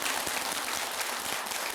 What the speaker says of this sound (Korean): 가만히 있으면 박수 치는군.